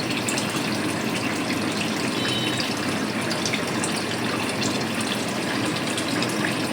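Water poured from a mixer jar into a cooking pan for a pabda fish jhal, a steady, full gushing rush of liquid that runs continuously and loudly for the whole stretch, with no voices.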